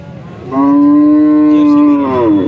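A Jersey cow at a cattle market in Alephata lets out a single long, loud moo that holds steady for well over a second and then tails off, with quiet market background around it.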